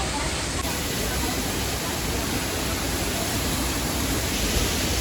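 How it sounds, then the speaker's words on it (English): Kempti waterfall in Nainital, India roars loudly at close range, a steady dense rush of falling water with no let-up, with faint crowd voices blended into the spray. "Kempti waterfall."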